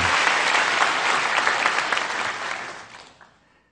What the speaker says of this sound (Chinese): 我们鼓掌欢迎一下今天要受浸礼的灵魂们